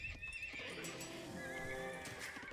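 A horse in a castle stable area of a historical Indian strategy game gives a clear, fairly close whinny with hoof clip-clops, standing alone with no talk.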